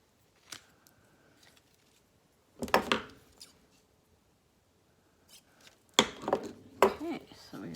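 Scissors snipping a small tail off a piece of card or paper during card-making, a few sharp crisp cuts in short clusters separated by quiet pauses, close up.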